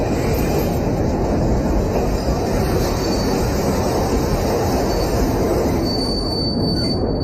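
Passenger train running on the rails, its wheels squealing steadily over a continuous loud rumble with no pauses, close and sustained throughout, with no voices.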